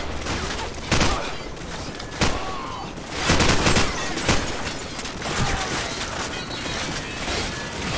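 Gunfire in Call of Duty 4: Modern Warfare: several sharp bursts of shots, some close and loud, ring out over a constant rumble of battle noise.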